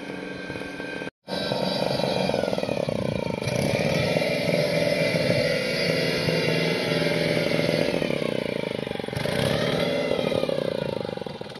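A boat engine drones steadily as the boat arrives at Kandaleru dam, loud and buzzing, with a brief cut near the start and a slight swell toward the end.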